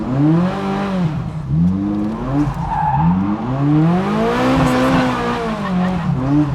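Turbocharged Ferrari engines at a large Ferrari gathering rev hard in repeated rising and falling sweeps, loud and close, with tire squeal mixed into the roar.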